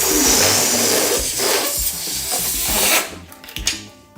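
Air rushes out of an inflated balloon pressed onto a food container, a loud, close hissing whoosh that gradually weakens and sputters to a stop after about three seconds, followed by faint rubbery squeaks.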